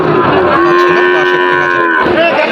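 A Sahiwal cattle moos loudly and close at a bull calf market, one long drawn-out call followed by the start of a second, standing alone without talk.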